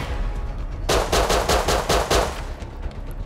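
Bursts of automatic gunfire from the survival video game Rust ring out in a steady, loud rapid volley lasting over a second, with no talking over it.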